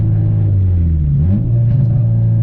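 A stripped, straight-piped Honda Civic EP3 Type R engine drones loudly and steadily from inside the cabin, the pitch dipping and rising around a gear change, with faint crackles and no voices.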